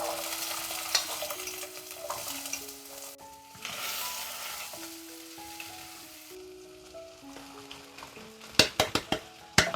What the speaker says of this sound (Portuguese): Eu vou refogar o frango com temperos que são fáceis de encontrar.